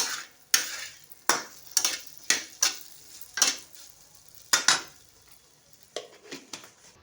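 Okra fries in oil with turmeric in a pan, a quiet sizzle under repeated sharp clinks and scrapes of a utensil against the pan, roughly a dozen spaced hits with no talk.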